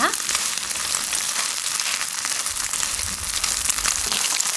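Vegetable pancakes (jeon), including baby napa cabbage, green onion with bacon, and cabbage, frying in a pan over high heat, giving a dense, continuous close sizzle with no talking.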